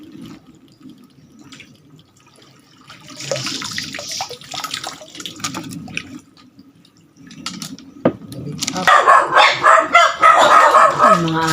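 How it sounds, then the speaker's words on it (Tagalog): Several dogs bark repeatedly at a distance, with faint water dripping and trickling nearby, and the barking grows louder and more insistent toward the end. "Ay, mga asong tahol na tahol."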